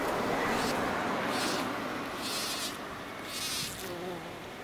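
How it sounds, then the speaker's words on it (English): A buff-tailed bumblebee worker buzz-pollinates a flower, giving close, continuous buzzing that pulses in bursts over several seconds. "Here the worker is buzzing to release pollen."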